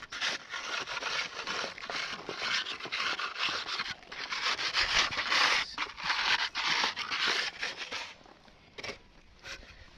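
In masonry work, a metal sheet cuts and scrapes away material in steady, close rasping strokes for about eight seconds, then the sound thins to a few quieter scrapes.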